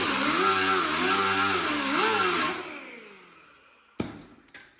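Wire wheel on a grinder working a welded metal panel, a loud whining, grating grind with wavering pitch for over two seconds, then spinning down, followed by a couple of sharp metallic knocks.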